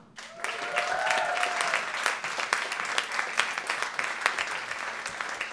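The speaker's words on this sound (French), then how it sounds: "On va donner une dernière grosse main d'applaudissements à nos finalistes" Applause from the audience at an album launch fills the room: dense, continuous clapping for the finalists that stays fairly even throughout, with no talk over it.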